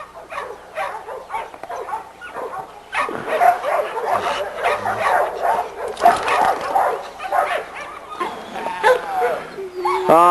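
Several dogs bark, yip and whimper repeatedly in the background, a busy chorus of yaps with a person talking over it.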